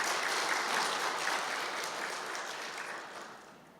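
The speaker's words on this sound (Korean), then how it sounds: "하나님께 영광의 박수 올려드리겠습니다" A church congregation claps together in a steady, dense round of applause that holds strong and then slowly tapers off toward the end, with no voices over it.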